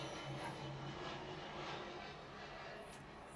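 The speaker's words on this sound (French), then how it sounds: "Ça, c'était un avion." A fixed-wing airplane passes overhead, a steady broadband engine roar that stays fairly even and faint throughout, with faint tonal hums beneath and no talking.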